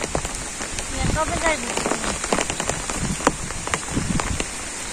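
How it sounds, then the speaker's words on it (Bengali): Steady rain pattering on a surface with gusty wind, dense and continuous throughout, with faint voices and scattered drips in the background. "বৃষ্টি পড়তেছেই, বাতাস আছে সাথে, মানে একটা বৃষ্টি অবস্থা।"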